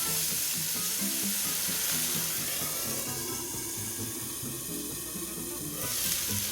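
Salmon sears in a non-stick pan with capers and caper brine, giving a continuous loud sizzle and spatter with a brief hissing swell near the end, no talking.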